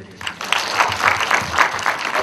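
Applause from an audience at a film screening Q&A, a clap or two at first, then a fuller round of clapping that grows and holds steady, fairly close and loud.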